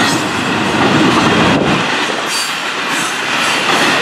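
A Florida East Coast Railway freight train rumbles past close by, a steady loud roar of wheels and rails with faint squeals, continuous throughout.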